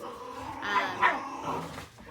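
Several pet dogs at home yip and whine in short bursts with a few barks, a little way from the recording, with no voices over them.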